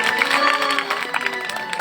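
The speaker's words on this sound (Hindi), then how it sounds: "तालियां बजनी चाहिए," Audience at a Hindu Ram katha discourse breaking into steady clapping mixed with crowd murmur, sustained and fairly loud while a sung or spoken tone lingers beneath.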